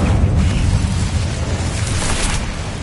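Incendio fire spell cast in Hogwarts Legacy, a loud, sustained roaring burst of flame that fills the whole moment with dense rumbling energy and no voices.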